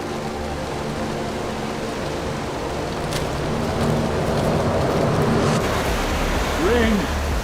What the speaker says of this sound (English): Rain coming down hard now.